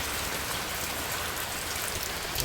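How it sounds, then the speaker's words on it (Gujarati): Rain keeps falling in a village, a continuous broad wash of drops hitting surfaces, close and fairly loud, with no voices or other sounds over it. "વરસાદ ચાલુ છે"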